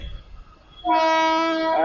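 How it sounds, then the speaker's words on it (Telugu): A train pulling into a station platform in Chennai sounds a loud, sustained horn that starts abruptly partway through and holds to the end, after a low rumble. "మొత్తానికి మన ట్రైన్ వస్తుంది."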